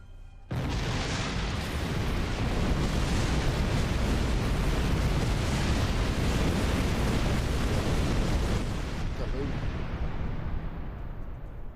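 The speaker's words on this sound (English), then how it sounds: "Detonate the charges." Charges blown on a planet's surface in Star Trek Online erupt in a sudden massive roaring detonation, a loud continuous rumble that sustains for about eight seconds before tapering off.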